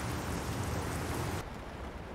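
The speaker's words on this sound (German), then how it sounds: "Das Wetter spielt auch mit. Regen." Steady rain from a truck-driving game, a Volvo hauling a trailer toward Liverpool, hisses loudly and evenly, then drops to a softer, duller wash partway through, with no voices.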